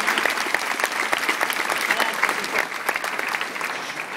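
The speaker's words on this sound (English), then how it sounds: "let's give these ladies a big round of applause." A crowd at a mentalist show breaks into lively applause, loud and close, with sharp individual claps standing out from the dense clapping and a few audience voices mixed in.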